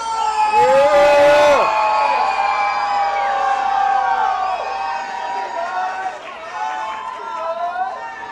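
Crowd at a live wrestling show cheering and shouting loudly, a dense sustained roar with whoops that swells at the start and then stays steady, with a voice over it.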